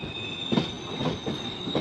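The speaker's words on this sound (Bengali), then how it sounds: "ট্রেন কিন্তু দাঁড়ালো না, একদম স্লো করেছিল" Karwar Express (16516) slowing through hilly terrain in Karnataka, wheels squealing with a steady high-pitched screech over rumbling carriage noise, punctuated by periodic louder bursts, close and continuous, no speech.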